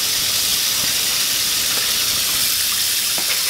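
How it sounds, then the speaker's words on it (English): A steady, loud sizzling hiss of butter melting in a hot skillet fills the clip, with a few faint pops. "we got the butter melting here in the skillet. We got a nice little sizzle going."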